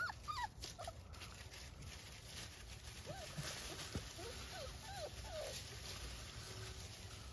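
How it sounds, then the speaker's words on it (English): Hovawart puppies outdoors giving scattered faint whimpers and high yips over a soft rustling background, fairly distant and quiet, with some voices nearby. "Puppies!"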